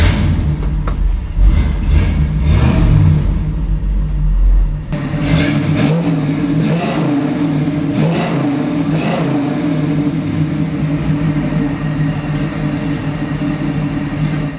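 A 1968 Chevrolet Camaro RS SS with a 396 big block V8 cranks over and fires, then settles into a loud, lumpy idle with a few deep revs rising and falling, close up with no talking.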